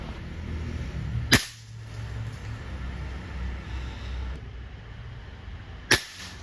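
An FX Royale 400 PCP air rifle firing 18.13-grain pellets gives two sharp, short cracks about four and a half seconds apart over a quiet background.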